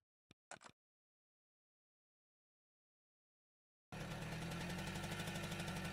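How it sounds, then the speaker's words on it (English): A motorcycle engine in the Hello Girl video game cold-starts after a kick on the lever. A few short clicks come first, then a silence, then a sudden loud, close, rapid chugging idle that keeps running. "The engine ripped through the silence as it cold starts."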